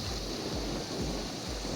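Ocean surf washing onto a sandy beach, a continuous broad rush of waves with wind buffeting the microphone, no voices heard.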